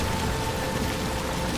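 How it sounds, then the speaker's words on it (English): Heavy rain in the video game Detroit: Become Human, a dense, constant hiss of downpour drumming on surfaces that fills the whole moment at steady loudness with no voices. "This rain is obscenely loud."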